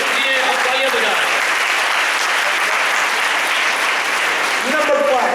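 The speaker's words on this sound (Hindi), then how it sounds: "let's clap for our young leaders" A large audience at a talk on leadership attitude claps steadily for its young leaders, loud and continuous, with a voice speaking over the applause near the start and end.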